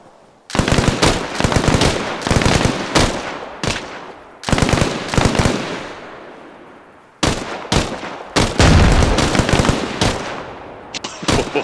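Bursts of automatic gunfire crack out in long rapid volleys in ARMA Reforger, loud and close, with short pauses and echoing tails between strings of shots.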